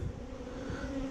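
Honey bees drone steadily at an opened hive in a split colony with no honey, a dense continuous buzz close by with no voices.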